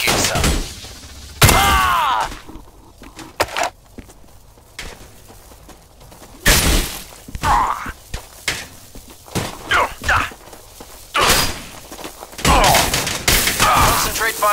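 Gunfire in a Warhammer 40,000 video game, loud separated volleys and bursts of shots with quieter gaps between them, with game voices and battlefield noise heard throughout.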